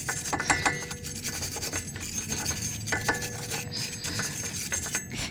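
A Subaru Legacy front wheel hub being cleaned during a brake pad and rotor job, heard as close, steady scraping and rasping strokes repeating for several seconds.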